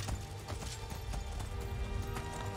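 A horse gallops in the video game Skyrim, its hooves clip-clopping in a quick, steady rhythm under a dense, fairly quiet game soundscape.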